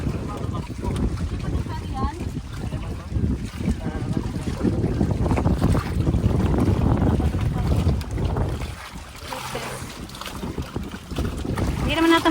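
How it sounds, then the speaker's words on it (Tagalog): Strong wind buffeting the microphone during a raft tour on water in the Philippines, a continuous loud rumbling roar with water and boat noise beneath, while people talk over it. "Parang lumakas yung hangin."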